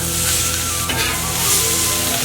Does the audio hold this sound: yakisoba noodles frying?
yes